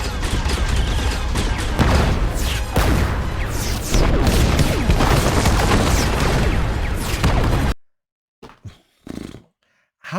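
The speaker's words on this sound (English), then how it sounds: "the Star Destroyers throwing down blasts of fire left and right" Heavy, continuous barrage of sci-fi blaster fire and explosions from Star Destroyers in the Ahsoka finale battle, loud and dense for nearly eight seconds before cutting to near silence with a few brief sharp bursts.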